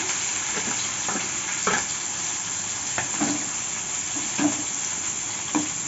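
Curry leaves and ginger-garlic paste sizzle steadily in hot oil for a brinjal and double beans chop, with a few soft stirring taps from the spoon over the continuous frying hiss.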